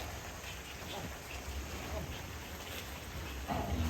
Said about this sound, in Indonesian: Kita hujan lagi nih, bulan.